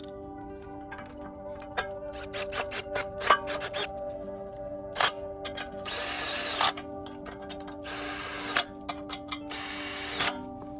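A power drill drives the bolts of a B&W Companion fifth wheel hitch in a Ford F350 bed, in two sustained whirring bursts between short ratcheting clicks and taps.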